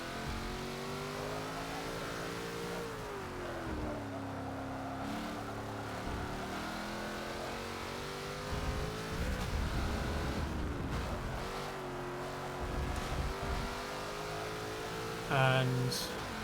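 Race car engine in the Forza 7 racing game revving and accelerating through the gears into sixth, a steady loud drone with rising and falling pitch across the shifts, while a person talks over it.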